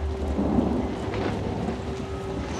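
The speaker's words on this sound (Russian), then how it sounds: "Ой, блин, гром, не могу. Мне страшно, когда гром гремит." Thunder in the horror video game Outlast, a low rolling rumble with steady rain and a faint electronic hum in the background, no voices.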